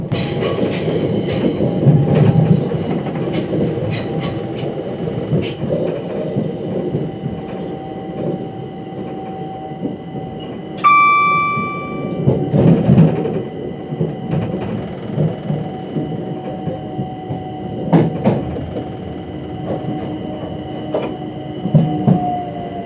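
Heard from the driver's cab, a train on London's North London line runs onto the electrified freight line from Primrose Hill, with a steady rolling rumble, rhythmic wheel clicks and a brief tonal squeal midway.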